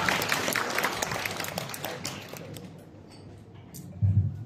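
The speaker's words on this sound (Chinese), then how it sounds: "谢谢您的热情掌声" An audience at a crosstalk show in a Beijing theatre applauds, a dense burst of clapping that gradually fades over a few seconds, with a low voice coming in near the end.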